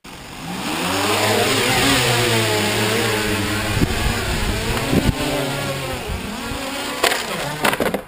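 Quadcopter motors spinning inside a ducted shroud on a Hiller-style flying platform, a loud whirring drone whose pitch rises and wavers, with thumps and rattles toward the end.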